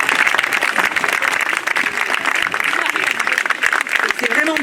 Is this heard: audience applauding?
yes